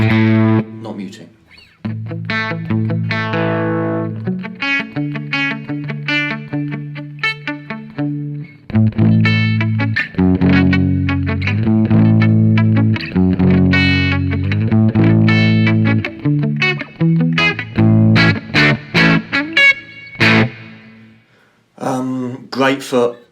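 Distorted electric guitar notes and chords ring on and overlap, loud and close, with sustained tones bleeding into each other and some choppier passages.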